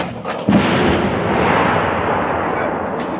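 An M198 howitzer fired by an artillery battery lets off a single loud, close blast that rolls on as a long, dense rumble through the rest of the moment, with no talk over it.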